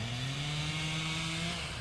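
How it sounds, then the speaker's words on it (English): A chainsaw runs steadily in the background, holding one constant droning engine tone throughout with no speech over it. "this is a chainsaw you're hearing in the back"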